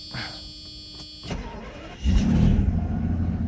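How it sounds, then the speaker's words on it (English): Mercedes SL600 V12 engine cold-starting: a whirring starter crank with a faint electric whine, then the engine catches at about two seconds into a loud, steady, rumbling idle close by. "let's start the engine now"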